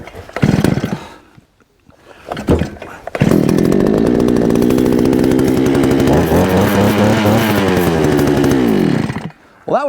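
A small gas-powered earth auger engine is pulled a few times, sputters, then catches and runs loudly and steadily for several seconds before cutting off.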